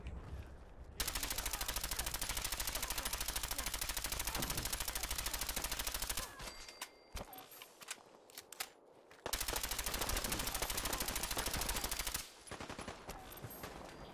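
Sustained automatic gunfire in the video game Fallout 4, long continuous bursts of rapid shots that pause for a few seconds between them, loud and dense.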